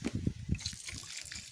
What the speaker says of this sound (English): Anake, pour the water